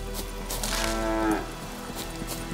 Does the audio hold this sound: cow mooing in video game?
yes